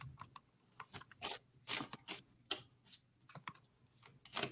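A deck of tarot cards being shuffled close up in bursts of crisp riffling and tapping, with short pauses between the handfuls.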